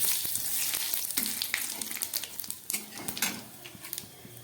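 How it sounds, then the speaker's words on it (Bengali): Whole cumin, two dried red chillies and a bay leaf dropped into hot oil: close, crackling sizzle with sharp spitting pops and a few utensil clinks against the pan, settling gradually. "এবারে এই তেলের মধ্যে দিয়ে দিচ্ছি একটু গোটা জিরে ফোড়ন, দিয়ে দিচ্ছি দুটো শুকনো লঙ্কা, আর দিয়ে দিচ্ছি তেজপাতা"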